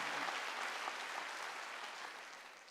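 A church congregation claps during a Sunday worship service, producing steady, dense applause that runs throughout and fades slightly toward the end, heard from a distance.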